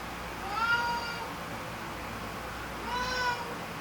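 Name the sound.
cat meowing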